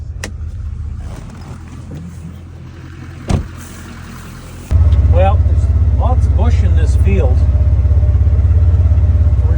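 Side-by-side utility vehicle driving through a bushy farm pasture on a cattle feeding run, its engine rumbling steadily and growing louder midway as it runs close, with a person talking over it.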